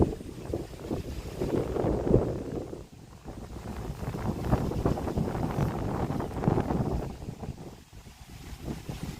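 Steady wind blows and gusts across the microphone near a tree with fallen leaves before snow, a continuous rushing roar that swells and eases, with no voices.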